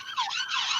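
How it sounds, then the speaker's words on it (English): An ambulance siren wails outside, a brief sweeping electronic tone rising and falling, moderately loud and steady, with no voices over it. "It's an ambulance."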